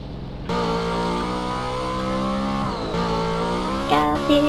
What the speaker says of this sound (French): Vaut mieux que je prenne une voiture.